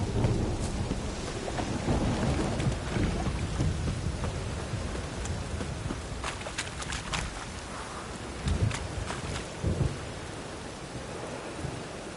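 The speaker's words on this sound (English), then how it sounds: "Storm, damn it." Thunderstorm with steady rain in The Witcher 3, a continuous wash of rainfall with low rolling thunder rumbles throughout and a stronger crack near the end, heard alone without talk.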